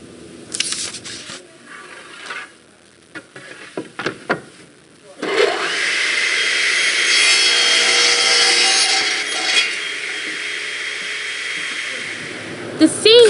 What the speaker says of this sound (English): The scene shop is so huge and filled with so much lumber, paint, nails, hammers, saws, and other powerful tools.